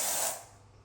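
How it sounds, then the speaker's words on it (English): A short, close hiss of aerosol wasp and hornet killer sprays out loudly, then tapers off and fades within a second. "I'm about to spray the whole can."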